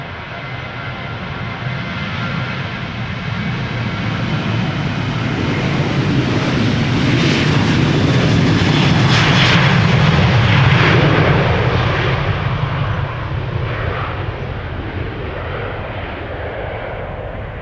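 A Transavia airliner departs Schiphol bound for Alicante, its jet engines roaring loudly and building as it passes nearby, then slowly fading.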